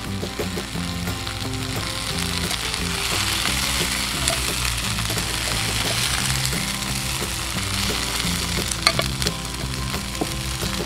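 Chilies fry in a pan for Indonesian sambal, a steady close sizzle and crackle with occasional stirring clinks, continuous throughout with no talk.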